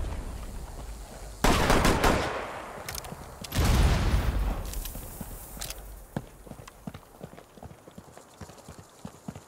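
Gunfire in a Western-themed video game showdown, two loud bursts of shots followed by a long fading tail, with steady clip-clopping horse hooves and scattered footsteps continuing afterward.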